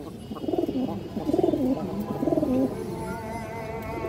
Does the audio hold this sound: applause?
no